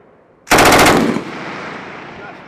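M240B machine gun fired by U.S. Marines on a range: one loud, close burst of rapid shots lasting about half a second, then a long fading echo.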